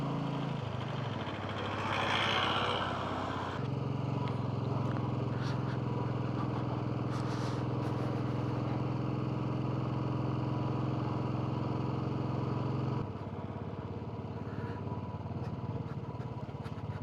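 A motorcycle engine labours up the high Shinku La pass in Zanskar, holding a steady loud drone for most of the stretch before easing off, with no talk over it.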